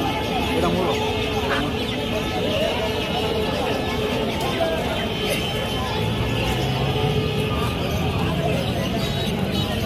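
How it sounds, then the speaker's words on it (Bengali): Silkie chickens cluck at a busy poultry market in Tongi, Bangladesh. Their scattered, overlapping calls rise over a dense, constant wash of crowd noise, with people talking nearby throughout. "এটা মুরগি এটা মুরগি"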